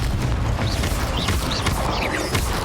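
A Confringo explosion spell in Hogwarts Legacy lands with a loud, sustained booming rumble, with bright whooshing streaks and crackles over the blast.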